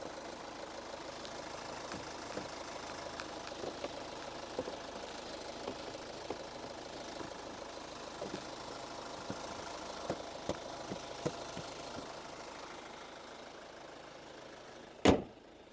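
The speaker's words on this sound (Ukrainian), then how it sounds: "Зараз автомобіль у нас заведений, працюють денні ходові вогні." Steady low rumble of a 2.2-litre diesel engine idling in a Kia Sorento, with faint periodic knocking ticks throughout, then a brief loud thump near the end.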